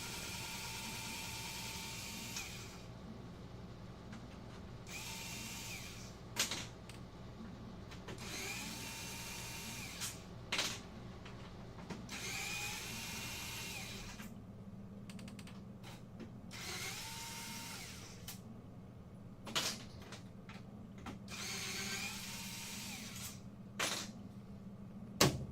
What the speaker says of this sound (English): I'm removing all these black screws.